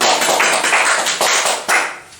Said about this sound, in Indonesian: tepuk tangan untuk Amin.